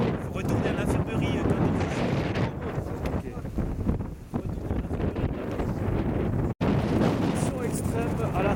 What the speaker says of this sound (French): Rafale de vent, chute de neige modérée, froid vif.